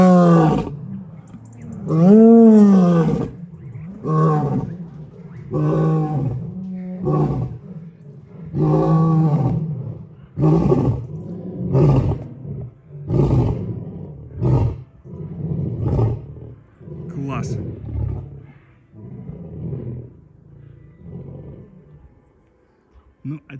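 Lions at a lion park roar in a long series of deep, rhythmic bellows and grunts, loud and close, tapering into shorter huffing calls over about twenty seconds.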